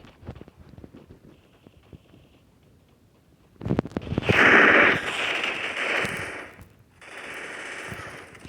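Gunfire from the Free Fire video game: scattered faint ticks give way to a loud burst of rapid automatic shots, a sustained volley, a brief gap, then another stretch of firing.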